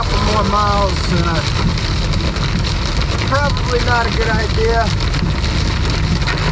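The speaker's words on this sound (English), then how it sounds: "I've gone from fog to heavy rain to you name it" Heavy rain falls while a car drives the Blue Ridge Parkway in North Carolina, a dense, steady roar throughout with someone talking over it.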